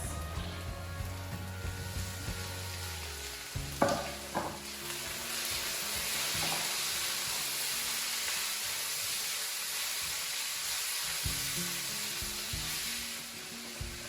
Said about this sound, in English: So fry the onions for about 2 minutes, the onion and the garlic for about 2 minutes.